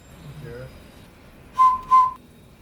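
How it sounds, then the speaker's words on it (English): A ceramic whistle of still-wet clay gives two short, clear, bright toots in quick succession after a moment of near quiet, close and fairly loud. "Okay, so that's the whistle."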